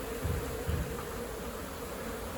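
Honey bees from a large colony nesting in a shed, a dense steady buzz from many insects that fills the whole short stretch at an even level, with no talk.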